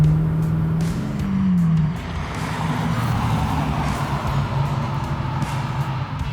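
A 1969 Chevrolet Camaro RS/SS 383 restomod drives by, its V8 note rising as it revs and accelerates, then settling into a loud, steady rumble fading slightly away.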